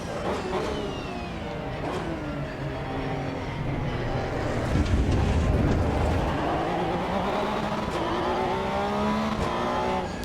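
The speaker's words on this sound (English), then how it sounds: "when the car stutters and it doesn't want to deliver linear power" A race car engine in the Assetto Corsa EVO sim racing game revs and stutters unevenly, its pitch climbing and dropping through gear changes with a gritty, dense drone throughout and no one speaking.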